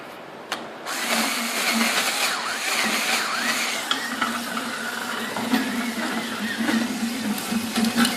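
A charcoal gasifier auger driven by an electric motor grinds charcoal, giving a steady, loud mechanical whir with a low hum and rough crunching texture throughout, with no talking.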